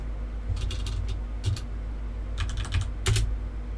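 A command is typed on a computer keyboard in a Kali Linux terminal, clusters of quick close keystrokes in short bursts with brief pauses between, over a low steady hum.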